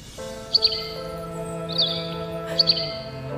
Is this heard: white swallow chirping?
yes